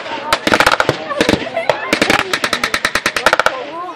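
Rapid blank gunfire and sharp bangs at a tank show battle reenactment, bursting in dense volleys and single loud cracks for several seconds, with people speaking over the shooting.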